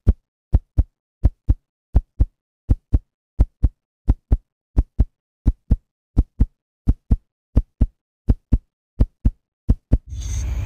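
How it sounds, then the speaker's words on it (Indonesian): Heartbeat sound effect of steady paired lub-dub thumps, about twenty beats in a regular rhythm, loud and close with no talk, cut off at the end by a short burst of noise. "saya akan aktifin dulu mode detak jantung"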